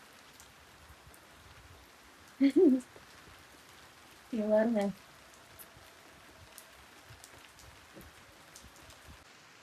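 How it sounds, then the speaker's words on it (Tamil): Heavy rain falls in a steady, dense hiss throughout, with two short bursts of nearby talking over it. "செம்ம மழை பெய்யுது"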